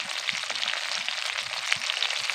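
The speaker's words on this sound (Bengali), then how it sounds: "মাছগুলোর এক দিকটা ভেজে নিয়েছি এবার অন্য দিকটাও ভেজে নেব" Large pond-caught puti fish fry in hot oil in a pan, giving a steady close crackling sizzle with small pops throughout and no voices.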